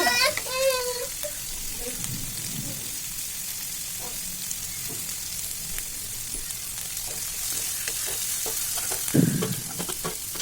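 Tomato and curry leaves fry in a pan for North Karnataka-style upma, a steady sizzle with intermittent scraping stirs and a few clatters, while someone talks now and then in the background.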